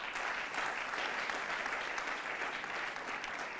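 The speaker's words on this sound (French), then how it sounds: "Je voudrais qu'on l'applaudisse." Steady applause from the audience at an a cappella singing competition, dense and sustained clapping that fills the room at an even level throughout.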